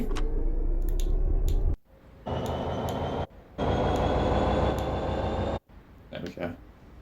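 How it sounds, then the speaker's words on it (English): Freight wagons rolling in a train simulator game give a steady mechanical rumble in loud sustained stretches, cut by short gaps, with a voice talking faintly near the end. "Listening to the wagons."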